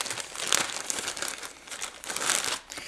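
Crinkly plastic packaging around a small jewelry piece, a bracelet, is torn and crumpled open in close, bursty rustles that come and go over a few seconds.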